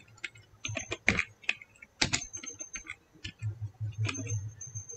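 Close, quiet typing on a computer keyboard, a quick irregular patter of key clicks with brief pauses and no voice.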